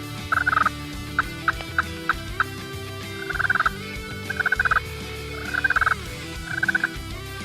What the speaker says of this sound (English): in comes two gobblers